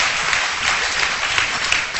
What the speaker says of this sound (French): Oui, applaudissez-la.